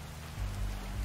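Rain falling in the video game Bear & Breakfast, a continuous hissing downpour with a deep rumbling undertone swelling slightly midway, no voices.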